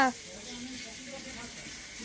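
A steady, soft sizzle of food frying in a pan in a Bengali home kitchen, an even hiss throughout after a brief louder onset.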